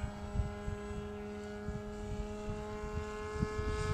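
A giant radio-controlled F117 model plane flies at low throttle downwind, its propeller giving a steady tonal drone with a buzzing harmonic whine, heard continuously at moderate distance.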